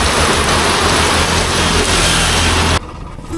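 A steady roar of heavy rain at a small roadside stall with a low engine rumble beneath, cutting abruptly to a much quieter background near the end.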